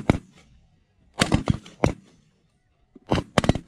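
Shotgun blasts fired at snow geese during a goose hunt: several sharp bursts in three clusters, a quick double near the start, a pair around the middle and a tight volley near the end, loud and close with quiet gaps between.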